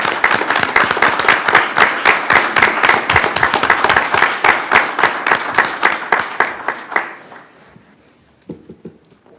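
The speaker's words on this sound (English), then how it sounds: "So a round of applause for those folks." Applause from a room of attendees at a city council organizational meeting, honoring people serving on boards and commissions: steady, dense clapping for about seven seconds, then tapering off into quiet with a faint stray sound near the end.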